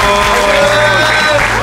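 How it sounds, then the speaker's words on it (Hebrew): An audience at a bodybuilding competition claps in a loud, dense burst of applause, with crowd noise and voices mixed in. "למחוא כפיים אחד לשני"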